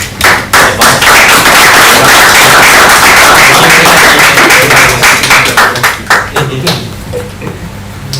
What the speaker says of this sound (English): we need a round of applause to our seniors